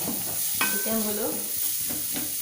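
Onions frying in butter in a pan, a steady close hiss and sizzle with scraping stir strokes, and a brief tonal whine briefly rising above the frying.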